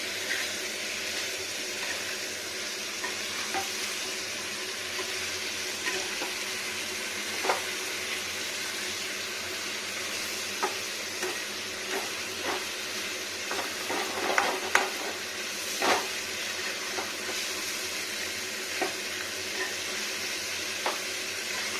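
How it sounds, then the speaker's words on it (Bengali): Country chicken meat sizzles steadily while being stirred and sautéed in a pan with green chilli and cumin paste. A spatula scrapes and taps at irregular intervals over the continuous frying hiss, with no voices. "মাংসটাকে ভালো করে কষাতে হবে"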